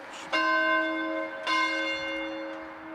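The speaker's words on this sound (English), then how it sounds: "taken turns ringing the 1825 bell in the tower of the Bolton Community Church" The 1825 bell in the tower of Bolton Community Church rings out twice, each clear, resonant strike followed by a long humming decay, heard alone and fairly close.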